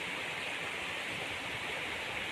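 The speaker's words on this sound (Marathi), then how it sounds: "ह्या पाण्याला लय प्रेशर आहे. तुम्ही बघू शकता किती आवाज येतोय." Water rushes hard under pressure below a weir and down through pipes in a village during heavy rain, a dense, steady, broadband roar holding level and close for the whole stretch, with no voices.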